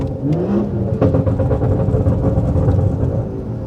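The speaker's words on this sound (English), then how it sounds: "So that's the OEM style burbles." A BMW with OEM-style exhaust burbles comes off throttle and downshifts, its loud, close exhaust rumbling and popping in an uneven burble over a few seconds with no talk.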